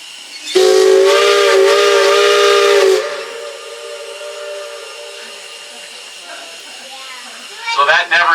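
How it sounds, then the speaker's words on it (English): Loud, sustained blast of a Cripple Creek Railroad steam locomotive whistle, a bright multi-tone chord lasting about two and a half seconds, followed by fading hiss and ambience, with voices at the very end. "You can hear our whistle from about 10 miles away."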